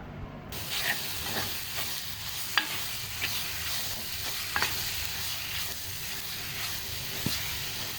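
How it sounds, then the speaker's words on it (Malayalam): Mackerel chili curry with tomato stirred in a pan, a soft continuous sizzle with scattered spoon scrapes and clicks, fairly quiet and close, no voices. "ഉപ്പിട്ടതിന് ശേഷം വീണ്ടും എല്ലാം കൂടി നന്നായി ഇളക്കുക."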